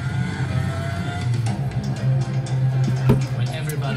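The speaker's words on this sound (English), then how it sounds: "The car runs its first meters on the test rig" Race car running on a factory test rig: a steady, loud mechanical drone with a strong low hum and rising whine, plus a sharp thump near the end, continuous and close throughout.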